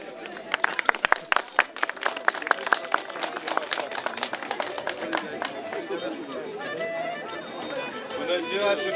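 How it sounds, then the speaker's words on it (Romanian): Audience applause at the opening of a Romanian folk and traditions festival at Măgura, with dense clapping that starts strong and slowly thins into crowd chatter and murmur. "Vă rog să aplaudați."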